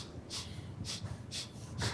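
A man imitates a patient's habitual sniffing with four short, sharp nasal sniffs at an even rhythm, close and fairly quiet, with no other sound.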